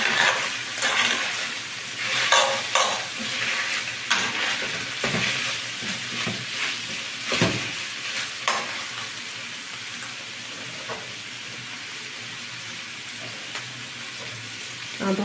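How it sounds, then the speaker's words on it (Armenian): Beef and vegetables sizzle in a pan as they are stirred, with dense crackling frying and bursts of scraping movement early on that settle into a steadier, softer fry. "շատ քիչ ենք տապակում"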